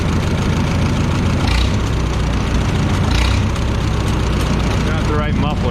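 A Minneapolis Moline A4T tractor with a Stanley muffler idles nearby in a steady, low, throbbing chug, with a voice speaking briefly near the end.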